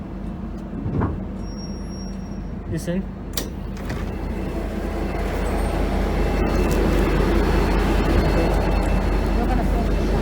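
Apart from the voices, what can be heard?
V/Line H set train inching up to the platform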